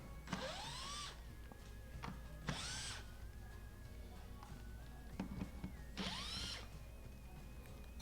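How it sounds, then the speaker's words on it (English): A power driver backs out the 1/4-inch screws holding the dispenser frame on a Whirlpool WRS325FDAM02 refrigerator. Three short, fairly quiet whirring bursts sound close by, with faint clicks and handling noise between them. "we're going to go ahead and remove the two 1/4 screws that are holding the frame."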